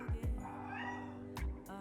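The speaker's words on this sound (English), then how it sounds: "Yeah, that's my cat." A cat lets out several loud, close meows in quick succession, each a short, strained, rising call, with brief gaps between them.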